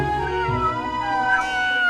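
A cat meows at a Buddhist temple, a drawn-out, wavering tonal call lasting nearly two seconds, close and clear with no talk over it.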